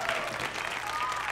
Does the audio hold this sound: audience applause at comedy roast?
yes